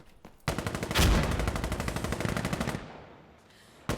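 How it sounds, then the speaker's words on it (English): Rapid automatic gunfire in a competitive shooter match, a loud close burst of evenly spaced shots with a heavy blast at the start, cutting off before a single shot at the end. "So gets the shot there into Salty"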